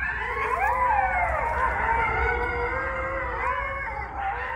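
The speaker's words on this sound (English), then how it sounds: "This is the sound of red wolves." Red wolves howl together in an enclosure on the North Carolina State University campus in Raleigh, a steady chorus of overlapping wavering tones rising and falling for several seconds.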